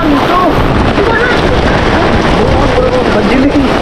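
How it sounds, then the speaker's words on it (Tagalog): Strong wind batters the microphone at an outdoor fishpond, a steady loud roaring rush that fills the whole moment. "Grabe ang lakas ng hangin."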